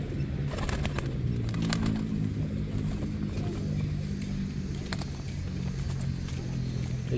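A young racing pigeon at its first field training, with soft low cooing and fluttering over a steady outdoor hum, plus a few faint sharp clicks and taps in the background.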